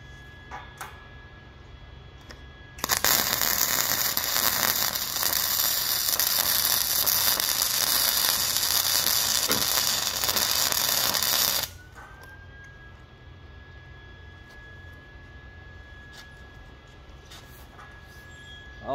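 Flux core wire welding on metal product, a steady loud crackling hiss running about nine seconds, starting and stopping abruptly, with quieter workshop hum before and after.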